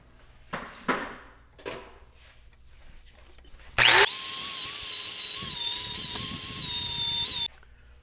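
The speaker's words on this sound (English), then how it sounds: "Let's clean this up a little bit with a grinder" A grinder whirs steadily for several seconds as it cleans up a cut metal clamp, following a few sharp knocks and scrapes of handling beforehand.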